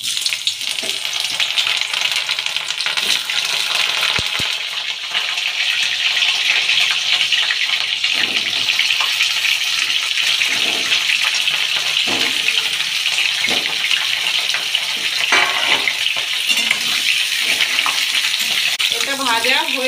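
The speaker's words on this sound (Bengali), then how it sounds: "এবার ফুলকপিটাকে ভেজে নেব।" Cauliflower fries in hot oil, a loud, unbroken sizzle close at hand, with scattered scrapes and clinks of stirring spread through it.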